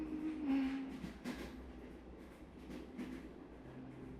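A train ride in the SubaHibi video game is heard as a soft, steady rumble with faint rhythmic clacks and a low hum, quiet and continuous throughout.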